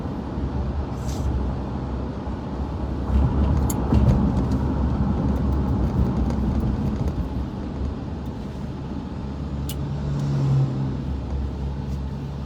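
Vehicles arriving on a road, a continuous rumble of engines and tyres with a brief hiss like an air brake, moderately close and steady without talk.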